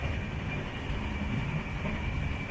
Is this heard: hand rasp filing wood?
no